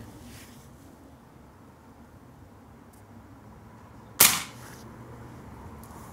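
A single sharp crack of a Fox M25 6.35 mm air rifle firing a 25-grain pellet breaks an otherwise quiet background, fading quickly.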